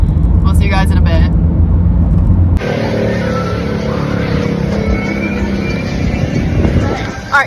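A car driving on the way to Indiana Beach, a steady engine and road rumble heard from inside the cabin. Voices speak over it at the start, then the drone continues.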